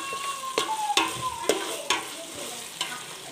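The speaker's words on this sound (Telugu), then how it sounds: "ఇలా ఎర్రగా కాలాక అల్లం పేస్ట్ వేసుకొని బాగా కలుపుకోవాలి" Ginger paste being stirred into onions frying in a pan for a vegetable biryani, with a spoon scraping in several distinct strokes over a steady sizzle, close and fairly loud.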